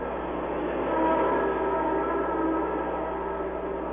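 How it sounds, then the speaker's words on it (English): A passenger train on the St. Louis to Detroit line roars past in a continuous, heavy rush of rumbling noise, swelling slightly and holding steady, with no voices. "the sound of the great train rushing through the morning from St. Louis to Detroit"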